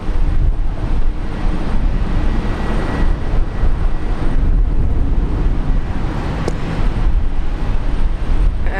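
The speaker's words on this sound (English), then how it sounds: "So Korean Air here now rolling on 19 right." A Korean Air jet at Brisbane rolls for takeoff on runway 19 right in heavy rain. It gives a loud, continuous, broadband engine roar mixed with the hiss of rain, steady throughout and with no talk.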